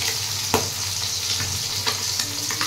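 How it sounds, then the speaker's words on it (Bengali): Bacha fish fry in hot oil with a steady, close sizzle that holds at an even level, broken by a few sharp crackles and pops. "আর একটু ভাজা হবে মনে হয়"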